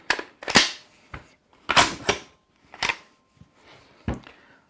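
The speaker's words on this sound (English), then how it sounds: "you would simply pull down on that to release the bolt" A Palmetto State Armory AK-V rifle, a Vityaz SN-style carbine, gives a few sharp metallic clacks as its bolt release is pulled down and the bolt slams forward, along with some handling clicks. The sounds come close and in separate bursts, with no voices.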